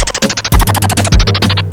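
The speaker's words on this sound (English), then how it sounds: "it's a normal scratch" Rapid DJ scratch pattern built in Sony Acid Pro 7, quick back-and-forth record scratches in a choppy rhythm, loud and upfront, with no voices.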